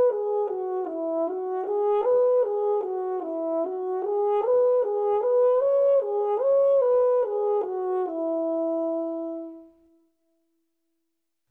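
The Tower Key song melody from the Little Einsteins cartoon, a simple clear tune of stepwise rising and falling notes on a soft mellow instrument, playing alone and then fading out to silence.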